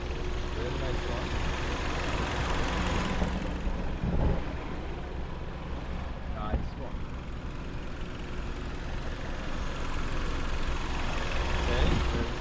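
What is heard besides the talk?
2011 Kia K5 gasoline engine idling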